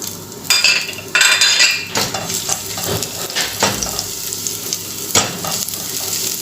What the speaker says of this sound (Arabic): اخلي الزيت يسخن شويه، واحط عليه الثوم يتحمر